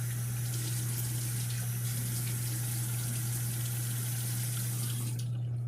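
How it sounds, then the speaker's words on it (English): A bathroom tap runs steadily while a face is rinsed, a close continuous splash of water over a low hum, cutting off abruptly at the end. "I'm gonna give my face a quick rinse."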